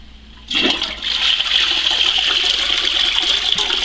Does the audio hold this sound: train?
no